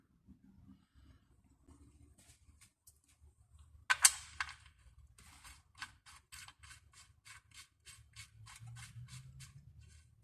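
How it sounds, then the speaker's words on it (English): A ratchet tightens the sump plug on a Mercedes M111 engine during a service on a W203 C180, with a clatter, then a steady run of quiet clicks and faint handling noise in a hushed space. "I'm gonna put on my new washer and put the sump plug back."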